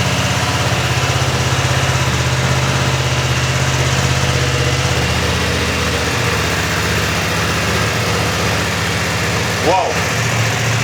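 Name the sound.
BMW F900XR motorcycle idling with Euro 5 exhaust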